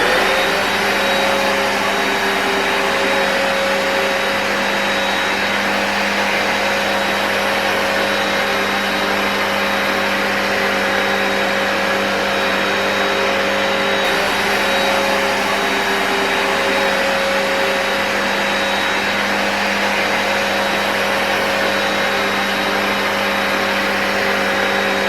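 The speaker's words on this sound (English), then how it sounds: "Okay, y'all, so I just got done vacuuming." A Hoover Powerdash Pet Compact FH50700 carpet cleaner runs steadily and loudly up close for the whole stretch, a constant motor whine with a sustained airy roar and no break.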